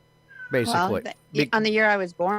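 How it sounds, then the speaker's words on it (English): A cat yowls and screams in the background of a radio show, brief wailing cries nearly buried under a person's close, continuous talk. "Because I don't know if that was your cat or my cat, but I hear one screaming in the background"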